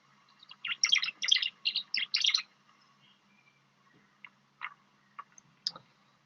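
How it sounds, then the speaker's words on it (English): A tree swallow gives a burst of liquid, trilling chirps up close, then a few sparse separate notes in an otherwise quiet setting. "So tree swallows have kind of a liquidy trilling call, a lot different from cliff swallow."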